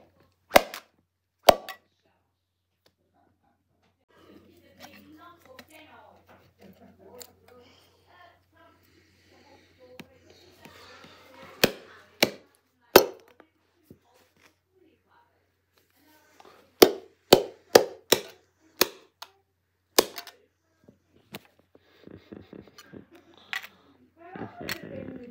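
A DVD disc is cracked and broken apart in a series of sharp, isolated snaps and clacks, some in quick clusters, separated by quiet stretches with faint handling noise.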